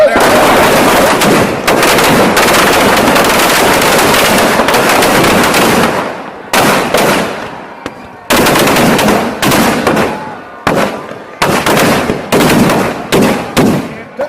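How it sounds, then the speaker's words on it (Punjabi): Firecrackers packed inside a burning Kumbhkaran effigy burst at a Dussehra celebration in Moga. Loud, dense, rapid crackling volleys run almost continuously, then break into shorter bursts with brief gaps, with a crowd faintly audible. "ਇਹਦੇ ਪਟਾਕੇ ਹੈਗੇ ਦੂਰ ਹੋ ਜਾਓ"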